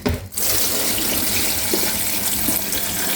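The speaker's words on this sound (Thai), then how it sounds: "เทน้ำแช่ข้าวลงไปค่ะ" Steady rush of rice-soaking water pouring into a bowl, continuous and close, with no voices.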